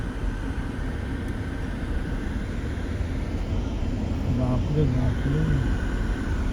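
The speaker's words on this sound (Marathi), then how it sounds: "गाडी येतं." A car goes past on a road beside the Khalvali river during a crowded village fair. A faint engine hum rises briefly out of steady background noise, with people talking nearby.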